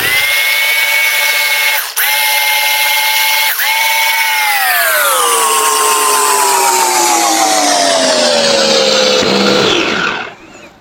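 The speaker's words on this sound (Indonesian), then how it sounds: "Oke, kita haluskan bumbunya terlebih dahulu." A blender grinds spice paste with a loud, high whine that drops gradually in pitch as the mixture thickens, briefly dipping twice early on before cutting off.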